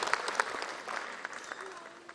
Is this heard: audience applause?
yes